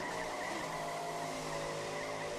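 A race car in the iRacing simulator braking hard, a steady engine drone with tonal whine and faint tire scrub, moderately quiet and continuous without any voices.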